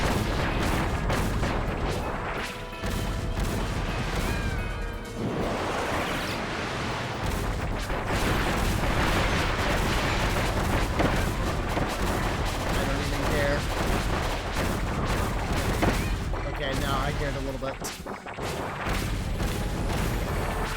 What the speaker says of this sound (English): it's a bomb